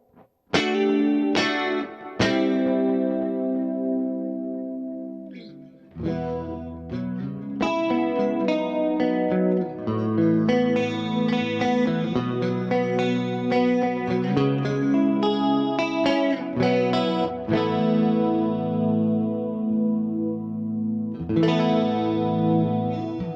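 An electric guitar with a shimmering chorus plays ringing chords and melodic lines through a stereo pedalboard, notes trailing into long repeating delay echoes and a wash of short reverb.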